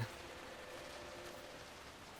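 Steady soft rain hiss from the Giza Plains area of Final Fantasy XII The Zodiac Age, a continuous faint wash of falling drops with no voices.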